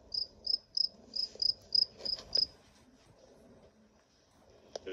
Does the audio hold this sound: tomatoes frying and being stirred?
no